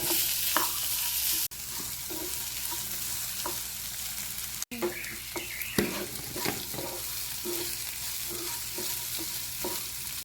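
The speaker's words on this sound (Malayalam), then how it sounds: "നല്ലോണം ഇളക്കി കൊടുക്കാം. അതായത് നമുക്കൊരിത് ബ്രൗൺ ആവുന്നവരെ ഇളക്കി കൊടുക്കണം" Puli inji mixture of tamarind and ginger stirred and fried in a pan until brown for an Onam sadya: steady sizzling throughout, broken by close scraping strokes of the spoon and a few brief clunks.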